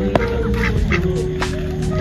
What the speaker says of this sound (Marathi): हे मला छोटी छोटी बदकं मिळालेत आणि ती आता ओरडतायत